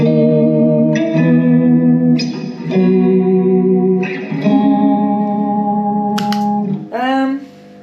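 Electric guitar chords played through an effects pedal, shimmering with chorus and echo, several sustained strums ringing out loudly with no talking.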